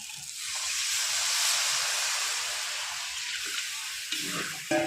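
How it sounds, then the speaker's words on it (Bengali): Water pours into a pan of sizzling egg curry masala, raising a loud, steady broadband hiss and spatter that swells, holds and then fades toward softer bubbling, with a few clinks near the end. "কষানো আমার হয়ে গেছে, এবার দিয়ে দেবো জল।"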